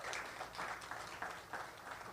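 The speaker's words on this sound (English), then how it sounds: "I would like to give another round of applause for our candidates." Faint applause from the audience at a primary election sheriff's candidate forum, a short steady patter of clapping heard at a distance.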